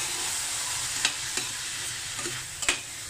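Tomatoes and garlic frying in a pan for beef mechado, with a steady sizzle and a few soft scrapes and clinks from stirring, fairly close with no talk.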